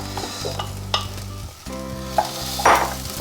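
Diced potatoes tip into softened onions in melted butter, sizzling loudly, with stirring clatter and a few sharp spatula knocks across the short stretch; a hum of low kitchen tones runs underneath.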